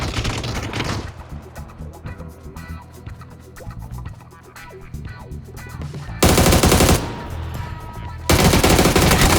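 Gunfire in PUBG, steady distant-sounding shots and rattling bursts through the first half, then two sudden stretches of very loud, dense close-range automatic fire.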